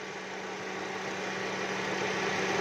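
Suzuki Swift engine idling with a spark plug pulled, a steady, close, even running drone with a constant mechanical hum and no voices.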